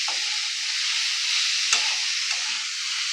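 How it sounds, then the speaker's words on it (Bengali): Minced chicken with turmeric fries in a pan, giving a dense, continuous sizzle up close, broken by a couple of brief stirring scrapes. "এবার একটু ভালো করে নাড়াচাড়া করে কিমাটা আমি বানিয়ে নেব।"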